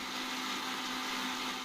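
A kitchen mixer blending a jamun drink with lemon: a constant, even whirring motor drone with a steady hum, close and uninterrupted.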